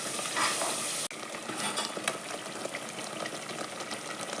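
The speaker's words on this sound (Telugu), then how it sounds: "ఇలా మిగతా మసాలా అంతా వేసుకున్నాక ఒక 2 నిమిషాలు బాగా వేగనివ్వాలి" Masala spices sizzle and fry steadily in a pan for goat head and paya curry, a close, continuous crackle with stirring scrapes and a sharp clunk just after one second.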